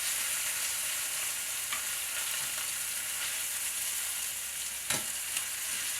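Chicken pieces coated in Cajun seasoning sizzle and fry in a pot, a steady close crackling hiss with a few faint scrapes and knocks.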